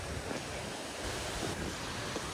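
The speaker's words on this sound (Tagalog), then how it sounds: "ito yung pinakamataas na waterfalls dito sa sa Negros Oriental" A tall waterfall in Negros Oriental roars as a dense, steady broadband rush of falling water, loud and continuous with no pauses, with wind buffeting the microphone and no talk.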